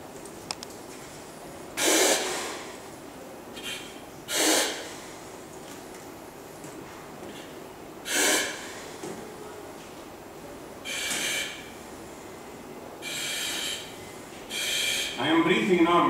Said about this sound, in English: I am breathing normally now because it's giving me air.